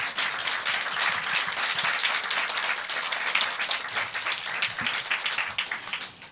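A congregation at a Korean church healing lecture applauds in a dense, sustained patter of many hands, steady and fairly close for about six seconds before tapering at the end.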